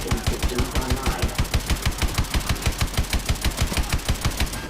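A main gun on a vehicle in the Advanced Warfare video game fires in a rapid, steady stream of loud, evenly spaced shots that never let up, with nothing else over it.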